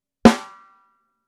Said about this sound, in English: this is the sound of our snare drum without any dampening on it